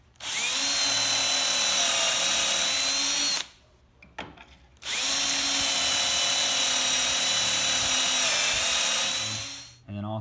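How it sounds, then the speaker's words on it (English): A power drill drives 1 1/4 inch Kreg pocket hole screws into a board, whining loudly in two long sustained runs separated by a short pause with faint handling clicks, then spinning up again at the end. "so I'm screwing this in using the drill bit"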